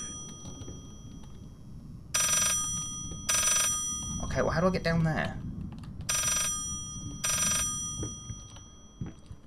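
Bursts of a ringing telephone in the video game Layers of Fear, two short rings, a pause while a voice talks, then two more rings, fairly loud over a low background rumble.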